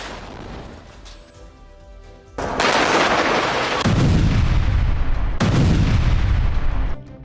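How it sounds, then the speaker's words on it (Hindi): Israeli bombing and artillery fire in Gaza: loud, heavy blasts and sustained rumbling bursts of fire, starting after a quieter stretch and continuing in dense waves with no voices. "गाजा में जमीन और आसमान से इजराइल के बम बरस रहे हैं।"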